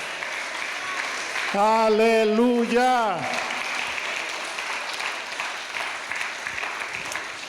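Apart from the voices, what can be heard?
applause for the Lord in church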